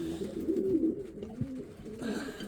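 Pigeons cooing in a crowded farm loft housing about twenty pairs and their young, a steady low murmur of overlapping coos close by with no speech.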